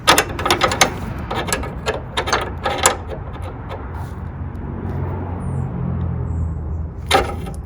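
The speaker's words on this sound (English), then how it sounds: "I started to use the wrench. And you can see I'm just tightening it easily." A wrench works a radiator hose fitting on a 1987 Corvette, a burst of close metallic ratcheting clicks, then a quieter pause and one more short clicking run.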